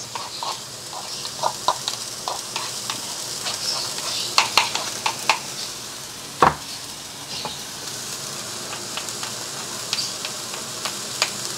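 Garlic and fresh string beans stir-fry in a spicy dish, with a constant oil sizzle in the pan and scattered scraping, tapping strokes of a utensil, one sharper knock midway.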